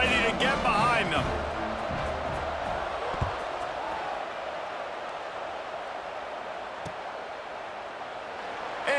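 A stadium crowd in EA Sports College Football 26 roars loudly at first, then settles into a sustained, dense murmur of cheering across the whole stretch.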